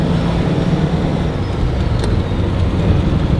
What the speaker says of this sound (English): I have to give it throttle, and then essentially we'll lock the throttle.